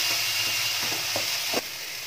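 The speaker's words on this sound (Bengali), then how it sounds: "এবার মশলাটাকে একটু ভালো করে কষিয়ে নিতে হবে।" Spice paste frying in oil in a pan for a vegetarian potol recipe, a close steady sizzle with a few brief scraping stirs near the end.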